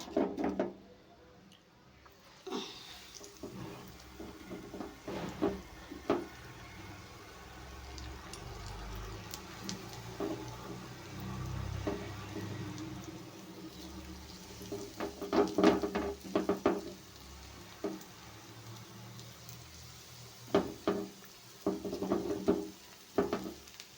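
Ridge gourd bajji deep-fry in very hot oil in a North Karnataka kitchen, a soft continuous sizzle broken by bursts of stirring and the clatter of utensils against the pan.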